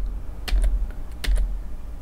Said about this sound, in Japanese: キーボードの X を押せば